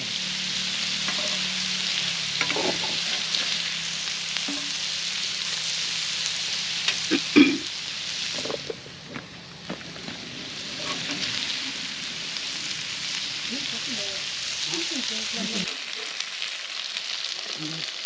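Chicken and fish fry in plenty of oil at an outdoor farm party, making a loud, continuous crackling sizzle with occasional stirring scrapes throughout.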